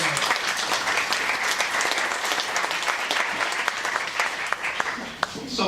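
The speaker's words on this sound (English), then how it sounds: "Can you all just clap your hands?" An audience at a London DevOps meetup claps hands in sustained, dense applause for several seconds, tapering near the end, with faint voices mixed underneath.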